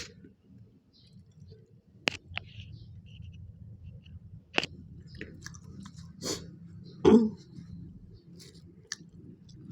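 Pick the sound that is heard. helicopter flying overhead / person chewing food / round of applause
person chewing food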